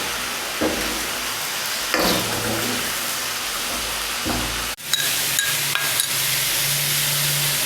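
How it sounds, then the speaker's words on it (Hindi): Chicken meat being stirred with salt in a hot karahi, a steady sizzle and frying hiss with a few sharp scrapes and clanks of the spoon against the pan. "अच्छी तरह हिला देंगे हम।"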